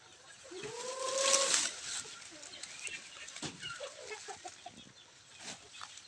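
Chickens cluck and call close by in a rural province yard, one louder rising squawk standing out over softer scattered clucks.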